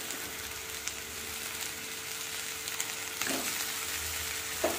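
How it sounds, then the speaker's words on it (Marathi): Amaranth greens (rajgira bhaji) sizzle steadily as they are sautéed with garlic and onion in a pan, a soft constant hiss with a few stirring scrapes, no talking. "व्यवस्थित परतून घेऊया."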